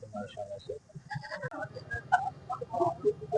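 Goats bleat at the Dina goat market in Jhelum, with several short nearby calls in quick, uneven succession amid faint crowd voices.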